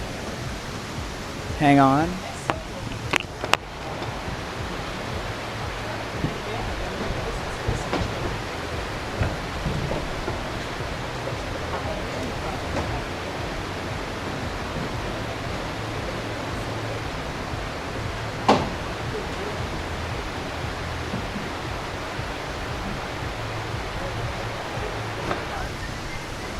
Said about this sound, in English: it is pissing rain